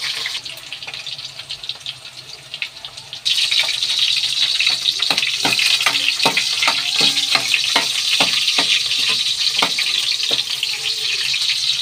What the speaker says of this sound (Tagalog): Lutuin muna natin tong carrots at saka kasi mainit ang panahon para matagal masira. Yan. I-ano natin, iprito ng bahagya.